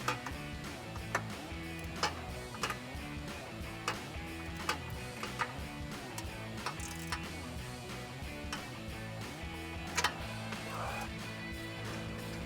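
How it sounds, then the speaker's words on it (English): An 18 mm deep socket on a 3-inch extension is used to remove the nuts from a Jeep Wrangler JK front bumper. It gives a faint, evenly spaced series of ratcheting ticks, with a few sharper clicks, and no talk. "You're gonna be using an 18 millimeter deep socket to remove the nuts, and I am also using a 3-inch extension."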